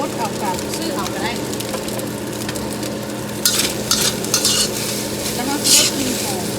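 Fried rice seasoned with black pepper is stir-fried in a pan, giving a steady close sizzle under bright scraping and clinking of a utensil against the metal, with a few louder clatters.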